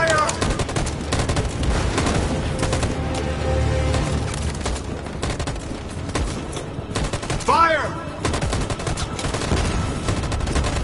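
Sustained gunfire in Detroit: Become Human at a camp, a dense crackling fusillade of many overlapping shots with heavy low rumble, steady across the stretch, with brief voices and a short rising electronic tone partway through.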